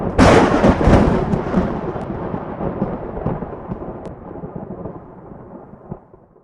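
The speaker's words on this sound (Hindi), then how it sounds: "तेज हवाएं बहने लगी और जोरों से बिजली भी कड़कने लगी।" Thunder booms during a sudden storm with strong wind and lightning, a loud broadband crack at the start rolling into a long, fading rumble that trails off over several seconds.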